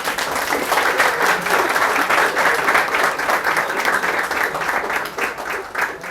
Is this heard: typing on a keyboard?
no